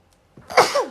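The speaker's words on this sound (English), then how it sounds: "I'm about to sneeze, hold on." A single sneeze, close and fairly loud, with a short sharp intake of breath before the burst and a quick tail after it.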